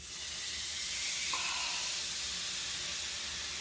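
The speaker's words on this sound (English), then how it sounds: "we're going to dry sear this steak" Flat iron steak dry searing in a hot skillet gives off a steady, loud hiss and sizzle that holds level for the whole stretch, with no talking.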